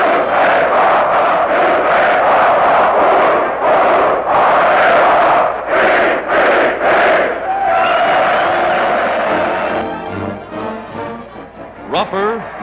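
A large stadium crowd of about 35,000 roars and cheers steadily at a 1943 Army-Navy American football game in Australia, a dense continuous swell that thins out toward the end.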